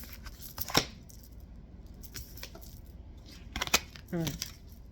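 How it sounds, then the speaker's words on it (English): Tarot cards being shuffled by hand, with a few soft papery riffles and slaps spread across the moment, faint and close, amid light room noise. "Bear with me, y'all, through all the shuffling."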